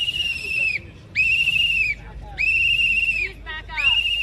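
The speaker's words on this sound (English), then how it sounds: "You blowing a whistle in people's ears" A whistle blown repeatedly at a political conference, sounding as loud, shrill sustained blasts in a steady on-off rhythm close by, with a crowd murmuring underneath.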